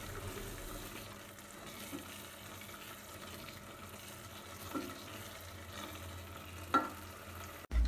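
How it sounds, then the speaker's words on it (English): Blended onions with green chili and red pepper frying as the base of a jollof rice stew, a steady low sizzle running throughout with a couple of sharp clatters near the end. "I started the stew by frying my blended onions."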